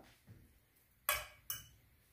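Chopped tomato, green shallots, black olives, cilantro and grated cheese are mixed in a bowl, giving two sharp clinks of a utensil against the dish over faint scraping, quiet and close.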